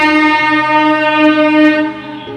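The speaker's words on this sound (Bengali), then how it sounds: "কি জোর ট্রেনের আওয়াজ হচ্ছে এখান থেকে স্টেশন একদম কাছে তো ওই জন্য ট্রেনে আওয়াজ হয়" A passing train close to a nearby station gives a loud, steady, sustained tonal roar, resembling a long horn blast that holds throughout and eases slightly near the end.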